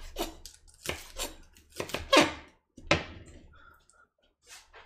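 A knife chops food in a home kitchen, several sharp cutting strikes in uneven bursts, close and fairly loud, with short pauses between.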